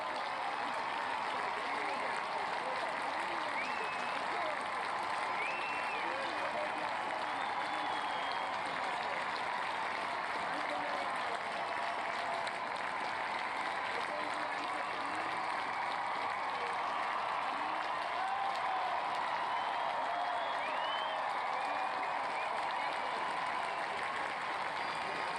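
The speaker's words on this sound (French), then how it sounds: "on voit effectivement la reine apparaître et cette clameur dans le public, cette clameur impressionnante" A large outdoor crowd at Windsor roars and applauds steadily as Queen Elizabeth II appears for her Platinum Jubilee, a dense, sustained wash of cheering and clapping with scattered whistles rising above it.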